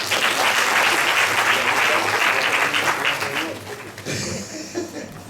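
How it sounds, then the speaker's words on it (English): A conference audience claps loudly and continuously, with some chuckling mixed in, before the applause thins out near the end and a voice briefly comes through. "Clap for me."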